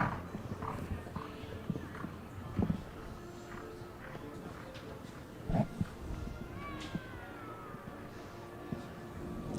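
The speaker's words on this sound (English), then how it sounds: "This is one of those horses with quick steps." Horse hooves with quick steps on an arena course at an international show jumping speed final, scattered thuds and clops at moderate distance over crowd ambience, with a commentator talking throughout.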